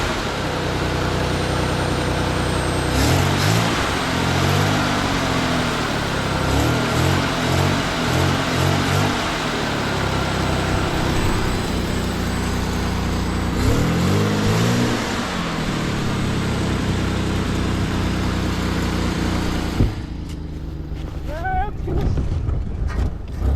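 A Ford Bronco II with a shifting fault runs on a test drive, its engine droning steadily under wind noise and rising in several revving surges before easing off near the end, with talk in the cabin.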